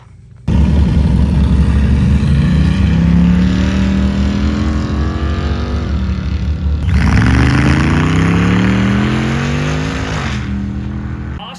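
A 1998 Jeep Wrangler TJ race vehicle in the 4500 class, pre-running a desert race course, its engine roaring loud and close, climbing through gears in repeated rising surges with a brief drop between pulls.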